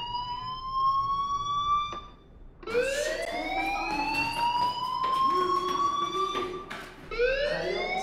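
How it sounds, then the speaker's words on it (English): Alarm in the video game Life Is Strange: a loud, continuous wailing tone that sweeps and repeats several times over about eight seconds, with a brief dip in the middle. Nobody speaks. "Hey, do you hear that fire alarm?"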